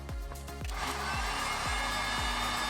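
A heat gun warms one glued side of furniture edge banding, giving a steady, close, breathy blowing roar that holds constant throughout, overlaid with a faint repeating mechanical whir.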